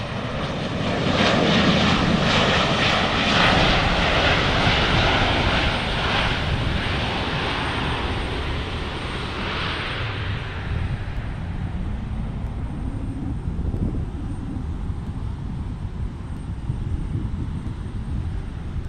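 An Alaska Airlines jet arrives on the runway at Portland International Airport, heard from a parking garage beside the runway as a loud, steady engine roar that slowly fades and lowers in pitch, with no voices.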